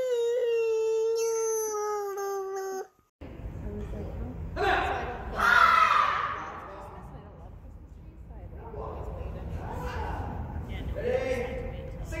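A puppy howling in long rising and falling cries, with a sustained tonal howl near the start followed by rougher whining howls, fairly close, while a person talks nearby.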